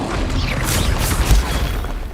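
A loud, sustained blast from the Confringo fire spell in the Hogwarts Legacy video game, a broad roaring burst with rumbling low end and crackling, swirling effects throughout.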